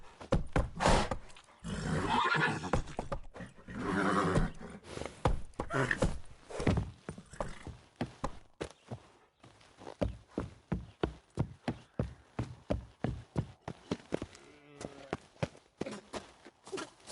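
Horse hooves in The Witcher 3 pound out a steady, rhythmic gallop, loud and close, after a stretch of heavier mixed thumping and rumble at the start.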